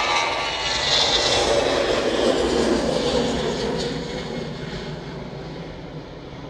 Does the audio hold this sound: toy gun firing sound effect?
no